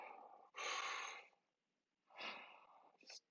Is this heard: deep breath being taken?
yes